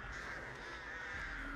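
Crows caw faintly in the background of the Dead by Daylight game, a soft distant call over a steady ambient hiss with no talk.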